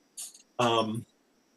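A single sharp sneeze: a brief breathy intake followed by an explosive burst, close and loud, then quiet.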